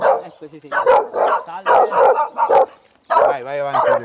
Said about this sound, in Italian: C'è il cane a guardia.